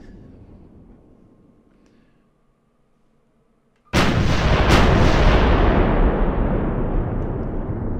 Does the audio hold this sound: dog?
no